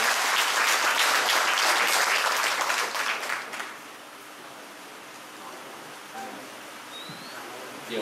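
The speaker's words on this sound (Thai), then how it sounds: "ขอเสียงปรบมือดังๆขอบคุณคุณหมอ" Audience applause at a holistic health centre event, a dense, loud burst of clapping for the first few seconds that quickly fades to a quiet room with faint scattered sounds.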